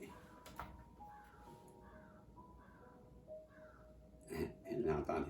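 A crow caws several times in the distance, a series of rough calls spaced about a second apart, followed by a quiet voice nearby.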